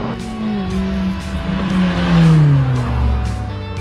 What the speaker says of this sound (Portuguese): O carro acelera, freia, faz curva, faz tudo como um carro tem que fazer.